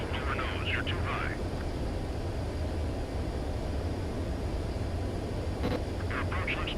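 Jet aircraft on landing approach in Ace Combat 7, a steady engine roar and rushing air filling the whole stretch, with cockpit radio voices speaking over it.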